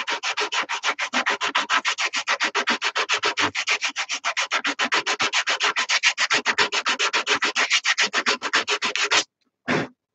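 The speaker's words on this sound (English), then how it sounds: "I'm dialing it in with this heavy sandpaper, this heavy 80 grit sandpaper" Hand sanding of a wooden massage tool with coarse 80 grit sandpaper, a fast, even rhythm of rasping strokes repeated dozens of times, close and alone, ending in a brief pause and one last stroke.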